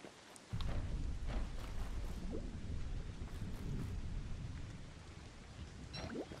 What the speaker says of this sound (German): jetzt regnet es nicht wirklich